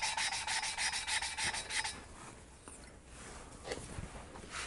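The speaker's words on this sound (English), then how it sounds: "Okay, I'm about done lapping this valve." A valve being lapped by hand on a Harley Davidson Shovelhead engine, with rapid back-and-forth gritty rubbing for about two seconds, then quieter scattered scraping, close and faint.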